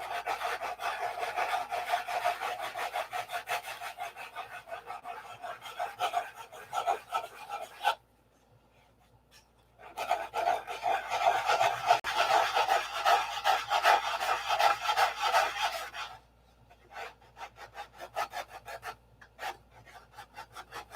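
Sandpaper rasps back and forth over the wooden wing of a model P-47, a close, steady scratching in long bursts broken by a pause of near silence.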